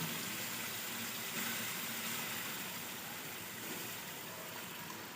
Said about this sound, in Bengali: ভালো রকম তেল ছেড়ে দিয়েছে সাইড দিয়ে এবার আমি জল দিয়ে দেবো